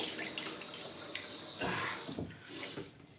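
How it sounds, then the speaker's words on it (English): Hot water pours and splashes from a tap during a live wet shave with shaving soap. The trickling and dripping is moderate and steady, with stronger gushes partway through and no speech. "Put some more hot water on."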